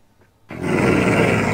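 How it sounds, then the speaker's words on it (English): Minecraft wolves growling in a video game, a loud, sustained rumbling growl that starts abruptly after a moment of near silence and holds steady. "If Herobrine isn't close, then they just bark normally"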